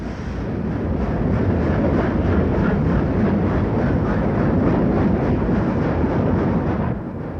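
Steam locomotive 3801 departing Sydney in 1970 on its transcontinental run, a loud, close, steady rumble with rapid rhythmic exhaust chuffs that ease off at the end.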